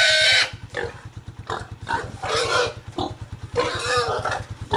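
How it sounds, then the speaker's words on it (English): A pig grunts and squeals loudly in repeated bursts at close range over a steady low rhythmic engine-like hum, on a Philippine holiday in 2008. "Here's the pig."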